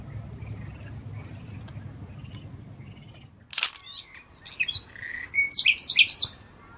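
After a quiet outdoor stretch and one sharp knock, birds near a nest in Qaradagh break into bright, close chirps and short tweets that come in quick clusters toward the end.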